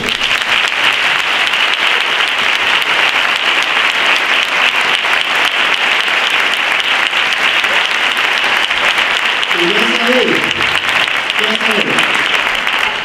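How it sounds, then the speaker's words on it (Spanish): A theatre audience at a Santa Cecilia band concert applauding loudly and steadily throughout, a dense even clatter of many hands, with a voice briefly speaking over it near the end. "Un aplauso fuerte para ellos."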